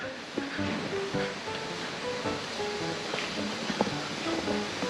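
A waterfall near Chiang Mai gives a steady, dense rushing roar that fills the whole stretch, loud and constant, with faint higher tones scattered through it.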